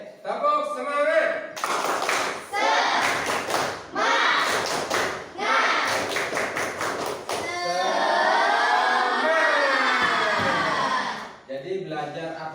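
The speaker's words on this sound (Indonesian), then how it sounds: "Baik, tepuk semangat." A classroom of children performs a rhythmic spirit clap (tepuk semangat), with patterned bursts of claps and thumps alternating with chanted group voices, ending in a long sustained shout, loud and close.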